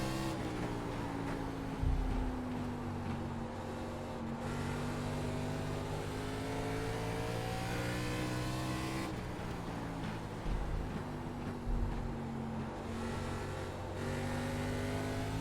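ARCA Menards Series race cars in the iRacing video game drone on track at Five Flags, a constant loud engine whine with pitch that shifts as the cars slow and pick up speed.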